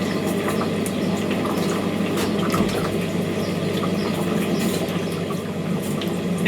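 Water pours steadily from a can onto potted plants and hanging baskets inside a garden shed, a continuous close splashing trickle with no talking.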